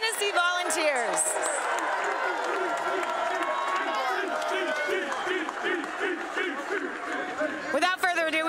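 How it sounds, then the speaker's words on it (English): Large stadium crowd at a college football bowl game cheering and applauding a Tennessee Volunteers shutout victory, a dense, loud, sustained roar of claps and shouts throughout, with bursts of yelling near the end. "give a huge round of applause for a shutout victory here by your champions, the Tennessee Volunteers"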